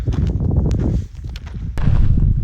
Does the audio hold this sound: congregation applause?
no